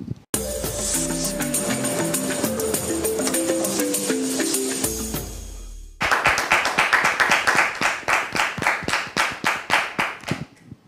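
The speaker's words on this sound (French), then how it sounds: "Toutes les fois que vous ouvrez votre télévision et que vous attendez ces applaudissements" Studio audience applause for a French television show, a steady burst of many hands clapping that follows a short musical jingle, loud and close with no talk over it.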